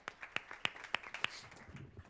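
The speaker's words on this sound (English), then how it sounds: "And some applause for them too." A small handful of people clap for panel guests at a Web Summit online hangout: sparse, uneven claps, fairly faint, fading out within two seconds.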